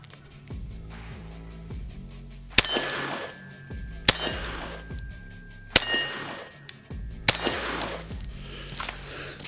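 A Kel-Tec P17 .22 pistol fired one-handed at close range: four sharp, evenly spaced reports, each followed by a bright metallic clang and ringing that dies away before the next shot.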